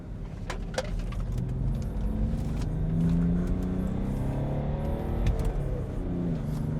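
A chip-tuned BMW 525d Touring diesel, tuned to about 230 horsepower, accelerates with a low, rising engine drone. Its steady harmonics climb gradually, heard from inside or close to the car with no talking.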